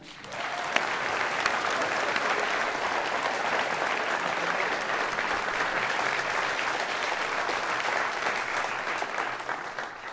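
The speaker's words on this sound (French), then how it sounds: "Je vous demande d'applaudir Alexandra Chauveau" Loud, sustained applause from a crowd at a final campaign rally as a municipal council member is introduced, dense clapping that stays level for about ten seconds without talk.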